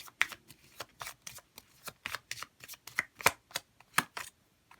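Tarot cards shuffled by hand in quick, irregular riffling flicks and soft slaps, close and quiet, with no talking.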